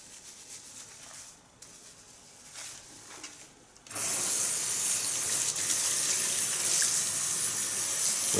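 Tap water runs at a salon wash basin to rinse hair. A softer trickle with some rubbing gives way at about four seconds to a loud, steady, hissing stream close by, with no talk.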